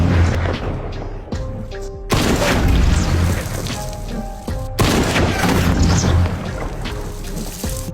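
Three gunshots ring out as loud, booming bangs over a dense, dramatic music bed, with sharp hits breaking through the continuous roar.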